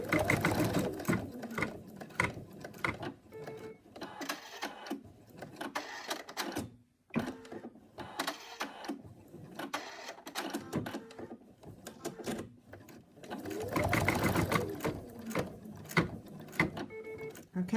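Sewing machine stitching a stuffed toy cat, a quick rhythmic mechanical chatter in short runs with brief pauses between them, fairly quiet and close.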